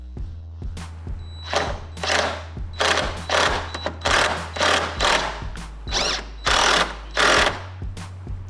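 A socket wrench ratchets a bolt tight on a Club Car golf cart in a garage, producing a long run of loud, close clicking strokes in an even back-and-forth rhythm over a low steady drone.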